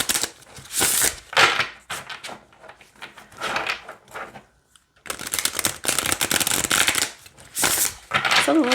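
A deck of foil-edged oracle cards is shuffled close up, giving long, dense riffling and rustling bursts with a brief pause midway, the stiff cards slapping and flicking together.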